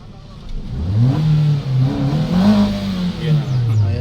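A 2020 Toyota Vios engine idling roughly with a misfire, heard close as an uneven, wavering engine drone that rises and dips irregularly over a few seconds.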